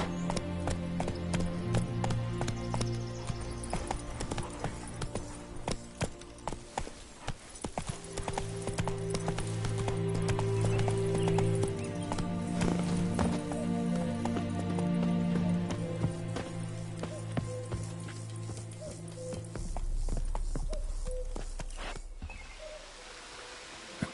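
In The Witcher 3, a horse gallops in a steady rapid clip-clop of hooves, heard close and continuous over a layer of game music, with a brief voice and a snort or whinny in places.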